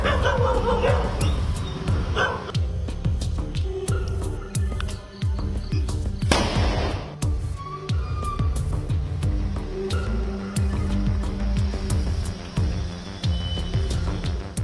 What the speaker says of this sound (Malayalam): കോഴിക്കോട് നഗരരാത്രികൾ ഇപ്പോൾ നായ്ക്കളുടെ പിടിയിലാണ്.